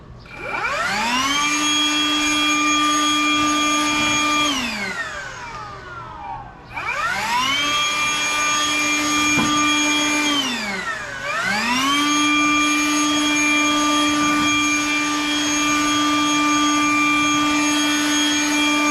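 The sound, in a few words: Ryobi 18V jet fan blower blowing dust off tiles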